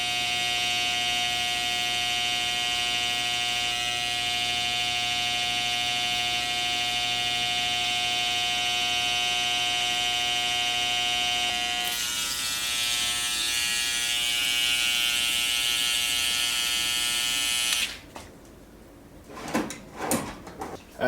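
An electric hair clipper buzzes loud and close while being cleaned of hair. It holds a steady hum that shifts in tone partway through, then cuts off and gives way to a few sharp handling clatters.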